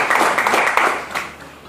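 Lecture-hall audience clapping for a student in a political economy class, a steady, fairly loud burst of applause that tapers off toward the end with no voices over it.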